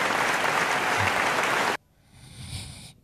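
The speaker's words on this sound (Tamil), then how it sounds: "நம்ம நல்லா வேகமாக கைத்தட்டுங்க." Award ceremony audience clapping loudly and densely for nearly two seconds, then cutting off abruptly to a quieter room with a faint swell of residual sound.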